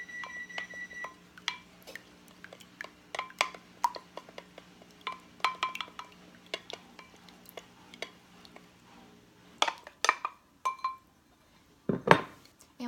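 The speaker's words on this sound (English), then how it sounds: "I'm just going to go ahead and lightly beat them a little bit." Four eggs lightly beaten in a mixing bowl for a chocolate cake batter, giving quick, irregular metallic clinks of utensil against bowl, with a few sharper, louder strikes toward the end and no talking.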